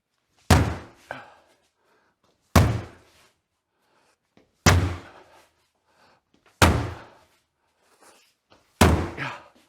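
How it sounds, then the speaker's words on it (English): A battering ram strikes a door braced with a Doorricade security bar, five loud, heavy slams spaced about two seconds apart, each with a brief rattling decay and quiet gaps between. "they come prepared with a battering ram that, remember, you can buy online"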